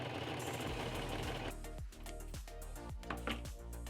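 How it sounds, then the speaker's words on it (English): A sewing machine stitches the back seam of a hooded cloak's outer shell and lining, a steady mechanical whirr that shifts into rapid rhythmic needle clicks, close and fairly loud with no talking. "now we need to sew up the back of our hood on both the outer shell and the inner lining."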